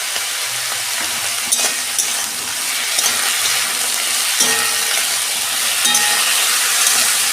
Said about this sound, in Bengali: এগুলো আমি একটু নাড়াচাড়া করে ভেজে নেব।